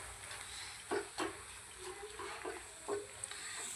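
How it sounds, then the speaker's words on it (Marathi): Spices fry in oil on a tava for mutton masala, a faint, steady sizzle broken by a few soft scraping stirs of a spoon against the pan. "याला पण आपण मसाला तेलामध्ये परतून घेऊया"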